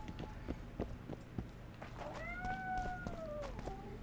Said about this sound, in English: That is one loud cat.